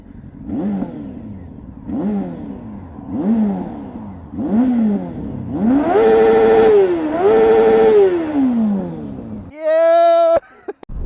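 A Honda Varadero 1000 motorcycle revs through several rising engine pulls, then holds a louder sustained drone while riding on a road, ending in a brief high mechanical whine and a click.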